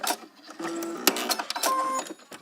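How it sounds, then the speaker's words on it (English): A sewing machine running in reverse to back-stitch the seam of a doll dress, giving short bursts of mechanical whirring and clicking at close range with brief pauses between them. "Back stitch, which just means make your machine go backwards."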